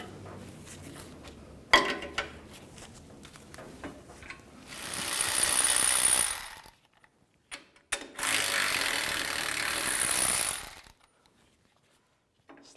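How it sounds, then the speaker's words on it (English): A ratchet fitted with an 18mm socket works the nuts off a rear brake caliper bracket on a Ford E-250 van. Scattered clicks and taps give way to two sustained bursts of rapid, close ratcheting, each lasting about two seconds. "Take these two nuts off, use an 18mm socket."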